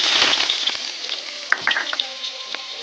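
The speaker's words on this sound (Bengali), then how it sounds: "আমি প্রথমে সাদা তেল দেবো, পেঁয়াজ দিচ্ছি" Onions hitting hot white oil in a pan, a bright steady sizzle with scattered pops and stirring scrapes, close and loud, easing slightly as it settles.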